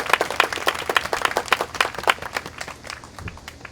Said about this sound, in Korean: 여러분 응원의 박수 부탁드리겠습니다